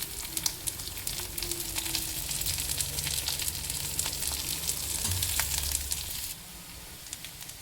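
Onions sizzle and crackle steadily in hot oil with green chilies and curry leaves, with occasional scraping of a spatula, the frying hiss dropping off near the end.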